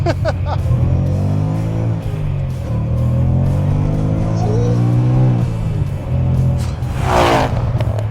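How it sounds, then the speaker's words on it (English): A supercharged V8 engine in a 2020 Shelby Super Snake revs loudly and steadily up close, rising and falling in pitch, with a brief high supercharger whine near the end. "you've got the supercharger whine"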